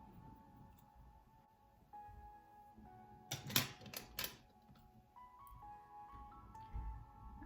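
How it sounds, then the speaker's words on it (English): Crisp metallic scissor snips trimming long layered hair, a short quick burst of cutting clicks midway through a quiet background with faint low hum. "with my scissors upside down, I'm just going to lightly work my way down"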